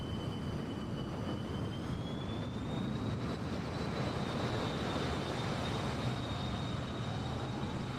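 F-15E jet engines in a flight simulator game near RAF Lakenheath give a steady broad roar with a faint whine that slowly climbs in pitch, heard alone and at moderate distance.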